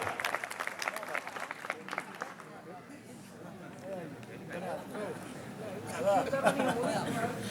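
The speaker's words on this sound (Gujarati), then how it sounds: "જબરદસ્ત તાળીઓના ગડગડાટથી વધાવી દઈશું આતમભાઈ માલધારીને" Applause from an audience at a Gujarati dayro folk gathering welcomes Atambhai Maldhari. Clapping is dense and crackly at first, then thins as voices and chatter rise over it, with a brief swell near the end.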